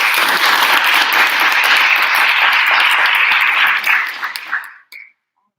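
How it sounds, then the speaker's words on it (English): Audience applause for a discussion panel fills the room, steady dense clapping for about four seconds before trailing off into a few scattered claps and silence. "could we please have a round of applause for our panel?"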